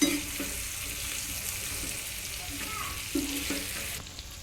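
Stuffed okra (bharela bhinda) sizzles steadily in a frying pan on a gas stove while being stirred, with a few soft scraping bumps from the spatula over the continuous frying hiss.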